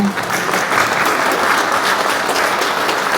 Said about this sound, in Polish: Ja poproszę o brawa.